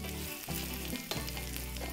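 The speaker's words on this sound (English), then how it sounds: "Now that that's nice and melted, getting hot, I'm going to put my onions in." Onions frying in melted fat in a hot pan give a steady, close sizzle with a few brief stirring scrapes and no voices.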